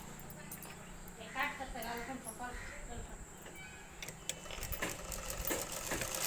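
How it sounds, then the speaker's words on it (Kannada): A sewing machine stitches the border of a blouse, giving a steady, fast mechanical whir with soft ticking. It runs fairly quietly throughout, in the background of an indoor room. "ಪೀಸ್ನ ಟರ್ನ್ ಮಾಡಿಕೊಂಡು ಕಿನಾರಿ ಸ್ಟಿಚಿಂಗ್ನ ಮಾಡ್ಕೊಳ್ಳಿ."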